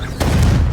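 A Confringo blasting curse explodes in Hogwarts Legacy, a sudden loud boom that breaks in sharply and rumbles on with a dense, low roar.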